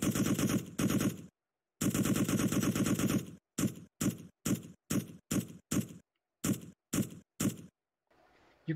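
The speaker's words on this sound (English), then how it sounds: "I can choose my AK-47 firing sound" AK-47 gunfire sound effect in Unreal Engine 4, heard first as two sustained automatic bursts, then a run of about ten short, loud, evenly spaced bursts separated by silence.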